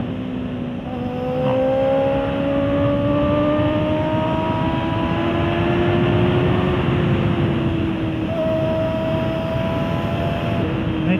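A truck rolls along a road with a loud, sustained engine drone that rises slightly in pitch and then eases off, heard up close from a moving vehicle.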